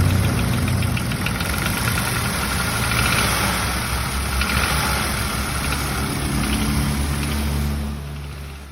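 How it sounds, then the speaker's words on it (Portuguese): A bad car engine idles with an abnormal knocking noise, a steady, loud mechanical rumble with a rapid repetitive knock running unbroken for about eight seconds before dropping off slightly at the end. "Agora veja esse barulho de um motor ruim."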